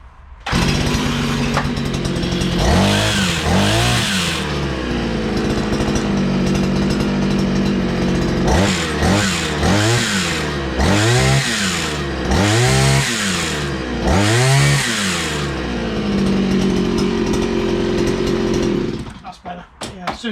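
A two-stroke strimmer engine idles and revs in repeated surges, loud and close, with bursts of throttle and people talking between them.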